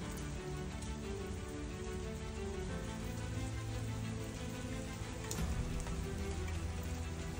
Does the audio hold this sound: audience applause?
no